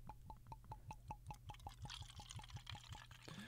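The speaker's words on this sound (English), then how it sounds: "I like this bottle because it makes fun pouring noises" Liquid glugs from a bottle into cheap plastic glasses in a quick, regular series of gurgling pulses, close and fairly quiet, with a brief splashy fill near the end.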